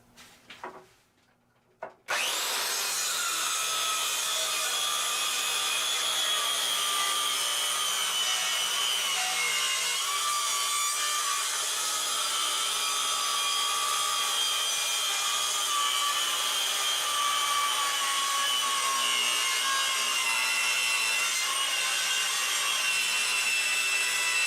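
A power saw cuts steadily through a wood slab for a serving tray, a continuous loud grinding whine that runs unbroken for over twenty seconds after a few brief knocks at the start.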